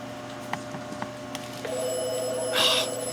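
An electronic telephone ring starts partway through and holds steadily, moderately loud, after some faint ticks and clicks in a quiet room.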